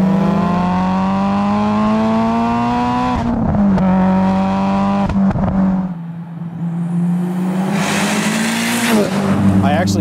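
A 700-horsepower Mitsubishi Evo engine pulls hard through the gears on a test drive, its droning note climbing steadily, dipping at a shift and then rising again, loud and close inside the car.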